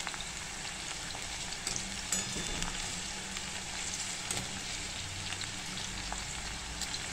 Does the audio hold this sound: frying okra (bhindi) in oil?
yes